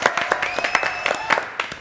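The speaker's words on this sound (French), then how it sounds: "Ici Paris, applaudissements, c'était très beau," A studio audience applauds, with close, uneven hand claps popping over a steady crowd wash, while a thin tone drifts underneath.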